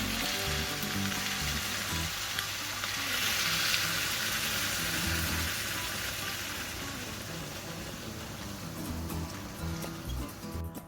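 Broth added to frying rice noodles and canton noodles for pancit bihon gives a steady, close hiss of sizzling that carries on evenly throughout, with no talking.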